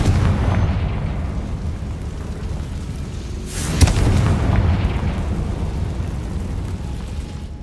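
The Confringo fire spell in Hogwarts Legacy goes off as a single rumbling blast partway through, rising out of a steady low roar of game ambience and fading slowly.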